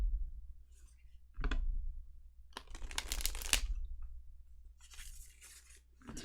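Tarot cards shuffled by hand, a few short rustling riffles and flicks of the deck between quiet pauses, close and soft with a low background hum.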